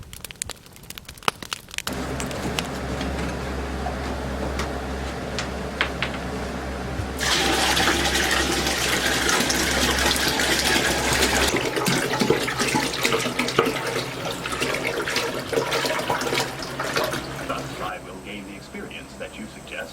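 Water gushing from a tap to be heated for a shower at a tent campsite, a steady broadband rush that carries on for many seconds and gets louder midway, heard close and continuous.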